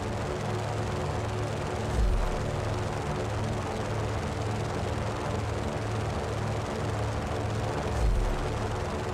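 An aircraft engine roars at full throttle in the Just Cause 3 action game, a loud, dense, continuous drone with a steady low hum and two brief low thumps, no voices present.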